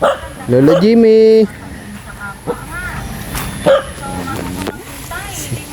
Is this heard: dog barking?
yes